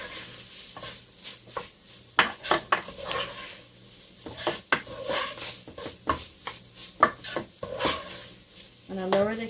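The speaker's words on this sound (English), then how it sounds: "And stir that up." A spoon scrapes and clatters around a pan of chili for enchiladas, with irregular metallic knocks and swishes over a soft background sizzle.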